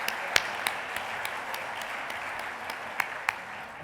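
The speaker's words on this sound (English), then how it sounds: "another round of applause for Baxter Burial Services" Scattered applause at a family and private business awards ceremony, fairly faint and distant, with a few sharper individual claps standing out above the soft crowd clapping.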